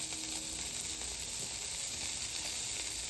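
Sausages and pancakes sizzle on a hot griddle at about 375 degrees, a steady, even, close hiss that holds without pause.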